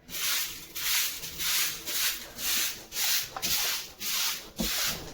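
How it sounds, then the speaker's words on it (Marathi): A stiff broom sweeps across a floor mat in about eight steady, rhythmic strokes, each a close, raspy brushing swish with brief pauses between. "तर पहा मी मॅटवरती असंच झाडू मारते खराट्याने"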